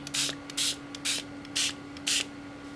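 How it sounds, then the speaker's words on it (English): A spray bottle fires five short, bright hissing bursts in an even rhythm, each about a quarter second long with brief pauses between, close by over a faint steady hum, with no talking. "see how I'm spraying that?"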